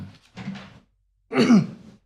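Two short bursts of throat noise at a planning board meeting: a muffled cough, a brief pause, then a louder rough cough-like sound, close to the microphone.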